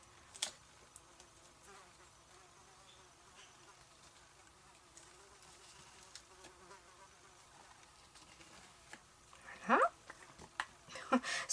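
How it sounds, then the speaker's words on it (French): A housefly buzzes faintly around a person working with texture paste, mostly in the background, with a few louder close passes near the end. "j'ai une mouche qui m'embête là"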